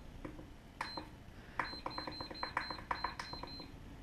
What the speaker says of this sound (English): Key beep can get pretty annoying.